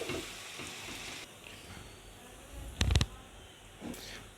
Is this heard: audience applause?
no